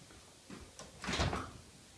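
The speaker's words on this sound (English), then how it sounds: "Now I'm going to put this in the oven for just 7 minutes, no longer." An oven door being handled in a home kitchen, heard as a couple of soft knocks followed by a muffled thud and a short scraping shut, close by and fairly quiet, with no talking.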